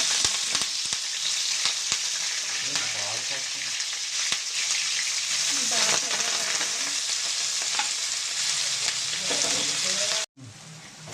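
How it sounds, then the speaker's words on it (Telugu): Onions and curry leaves fry in hot oil for a brinjal, potato and tomato curry, giving a steady, close sizzle and crackle with faint stirring that runs unbroken until a brief dropout near the end. "ఉల్లిపాయ మగ్గిపోయింది కదండి"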